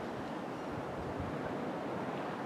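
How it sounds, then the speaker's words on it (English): Steady outdoor wind rushes and buffets the microphone for a few seconds, a broad, continuous roar with no voices. "it was windy just like this."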